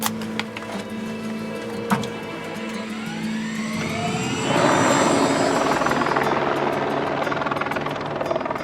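A helicopter's rotor and engine drone steadily in Andorra, building louder and rougher midway as it seems to lift off or pass close, with a whining turbine tone.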